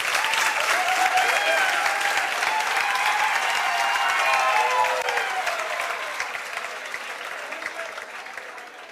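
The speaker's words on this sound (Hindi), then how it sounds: "जोरदार ताली बजाओ" A large audience in a hall claps loudly and continuously for a student and her parents at a coaching centre gathering, a dense, steady roar of hands that slowly fades toward the end.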